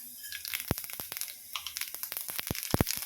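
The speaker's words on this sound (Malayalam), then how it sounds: "എണ്ണ ഒന്ന് ചൂടായി വരട്ടെ. ഇതിലേക്ക് കടുക് ചേർത്ത് വെക്കാം." Mustard seeds crackle in hot oil for a beetroot pachadi, making scattered sharp pops and snaps at an irregular rhythm over a soft background sizzle.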